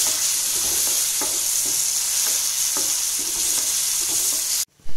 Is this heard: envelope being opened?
no